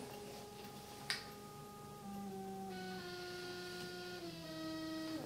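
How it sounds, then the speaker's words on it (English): A motorized camera slider carrying a heavy load glides along its rail, a faint steady mechanical whine with rising tonal hum and a soft click near the start, alone in a quiet room. "some of the vibrations that you're hearing is coming from the slider, not the motor"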